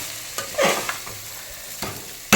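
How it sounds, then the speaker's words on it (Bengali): Chicken stew being stirred in a pan, with a few short scraping strokes and a brief sizzle between quiet pauses, close by and alone. "একটু নাড়াচাড়া করেই তারপর জলটা ঢেলে দেবো।"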